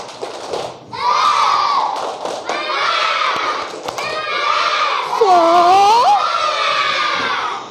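Fourth-grade schoolchildren in a classroom loudly shout a rhythmic tepuk semangat chant together, voices rising and falling in bursts with claps and thumps mixed in.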